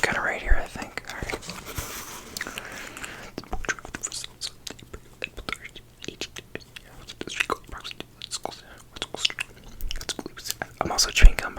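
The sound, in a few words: chewing gum mouth sounds while whispering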